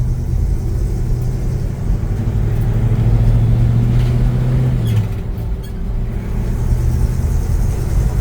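A 1966 Chevy C10 pickup's engine idles steadily with a low, even rumble and a brief swell of revs midway, moderately loud but not harsh, with no talk over it.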